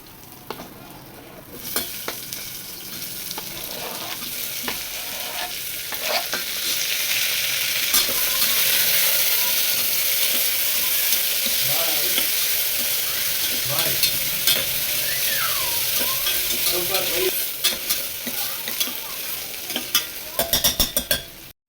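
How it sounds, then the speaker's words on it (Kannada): Tomato and onion fry with spices and a pinch of asafoetida in a pan, a continuous close sizzle with scattered spatula scrapes and stirring knocks, building louder after the first few seconds and ending in sharper clatters. "ಹಾಗೆ ಟೊಮೆಟೊ ಈರುಳ್ಳಿನ ಹಾಕ್ಕೊಂಡು ಚೆನ್ನಾಗಿ ಫ್ರೈ ಮಾಡ್ಕೊಳ್ತೀನಿ"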